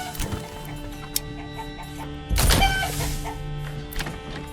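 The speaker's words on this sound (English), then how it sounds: "Gonna go ahead and get in some chickens." Chickens cluck in the medieval town-building game Manor Lords, with short intermittent clucks over a soft ambient game soundscape and a louder burst of game sound near the middle.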